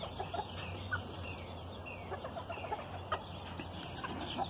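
Hens cluck softly around a hen that had four chicks, with scattered chick peeps and distant fowl calls over a quiet farmyard background.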